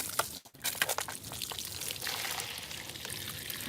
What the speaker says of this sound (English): And let's pour some water in here.